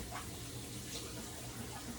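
Cold tap water runs steadily from a kitchen faucet in a home kitchen during holiday baking, a continuous close, broadband rush with no talk over it.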